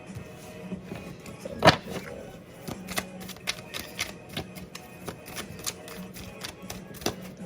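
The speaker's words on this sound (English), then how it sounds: "Let me keep shuffling." Tarot cards are shuffled with a string of quick, soft riffling taps and flicks, close by and fairly quiet.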